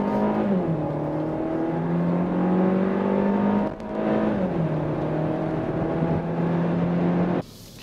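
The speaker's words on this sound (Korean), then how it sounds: "힘을 끌어모은 뒤에 출발을 하는데도 출발부터 부드럽습니다." A Kia K5 with about 160 horsepower pulling away from a standstill in sport mode, its engine note rising steadily in pitch, dropping briefly at a gear change, then climbing again, loud and close inside the cabin until a sudden cut.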